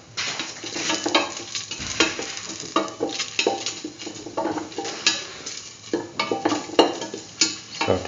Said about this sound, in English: and mix thoroughly. Keep on sauteing.